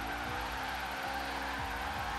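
Car drifting in the Forza Horizon 3 racing game, with continuous loud tire squeal over a steady engine drone, the squeal wavering in pitch as the slide holds.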